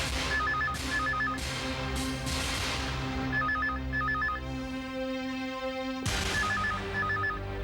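A telephone rings indoors in repeated double-burst trills, pausing briefly between rings and then starting again, clear over a low steady background hum with no talk.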